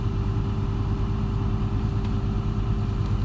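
A Hyundai Robex 300LC-9H excavator diesel engine idles at low idle around 980 rpm, a steady, even low rumble with a faint constant tone, heard up close with no talking.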